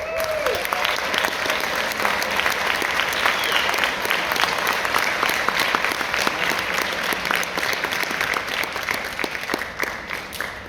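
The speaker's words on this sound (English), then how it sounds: "So I think you deserve a round of applause." Strong round of applause for a high school marching band invited to London's New Year parade, dense crowd clapping held loudly and steadily for about ten seconds.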